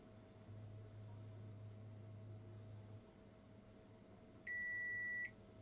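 A single sharp electronic multimeter continuity beep, high and steady, sounds for under a second against a quiet background with faint hum.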